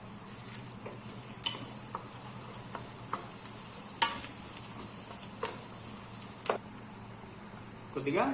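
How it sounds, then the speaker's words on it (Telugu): Masala frying for a meatball and potato curry sizzles quietly and steadily, with a handful of sharp ladle clicks and scrapes spaced a second or so apart. "ఇలా కొద్దిగా పచ్చివాసన పోయేంత వరకు వేపుకొని"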